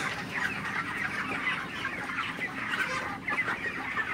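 Many broiler chickens on a farm cluck and chatter continuously, a busy flock murmuring close by with no talking.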